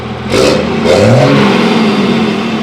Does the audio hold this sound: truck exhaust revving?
yes